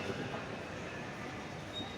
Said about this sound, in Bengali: বাচ্চাদের আনন্দ দেওয়ার জন্য বিনোদন দেওয়ার জন্য যে এখানে একটা ছোট্ট ট্রেনের ব্যবস্থা রাখা আছে